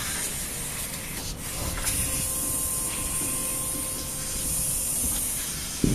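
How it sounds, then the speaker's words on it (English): Compressed air hisses from a truck trailer's air brake system during an inspection check for leaks. A steady, moderately loud hiss runs unbroken throughout, ending with a faint click. "listening for any air leaks"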